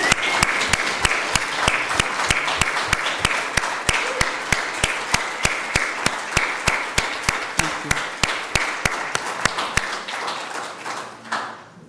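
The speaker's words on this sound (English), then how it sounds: "let's applaud for them and thank them" An audience applauds veterans at a remembrance gathering, steady clapping from many hands over about ten seconds, with one loud sharp clap beating a regular rhythm on top before the applause fades out.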